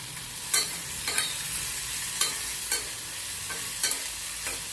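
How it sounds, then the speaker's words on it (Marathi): Peanut powder being stirred in a frying pan, a steady low sizzle under a handful of sharp scraping strokes spaced about half a second to a second apart. "त्यामध्ये मी दोन चमचे शेंगदाण्याचा कूड घालते आहे"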